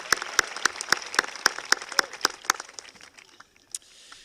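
A graduation ceremony audience breaks into applause for the valedictorian and salutatorian, with sharp, regular claps ringing out in a steady rhythm before thinning out and fading near the end.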